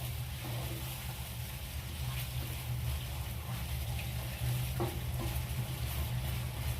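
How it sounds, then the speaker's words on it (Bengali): Chicken frying in a pan with ginger-garlic paste for a homemade chicken korma, a steady close sizzle with occasional stirring scrapes running throughout, with no talking. "আবারও আমি চিকেনটাকে ভালো করে ভেজে নেব, যাতে করে আদা রসুনের কাঁচা গন্ধটা চলে যায়"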